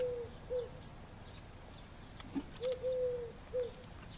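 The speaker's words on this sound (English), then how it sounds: "Why do I hear owl?" A soft, low hooting owl calls repeatedly at a distance outdoors at a high-altitude balloon launch site, short hoots spaced irregularly over steady background noise.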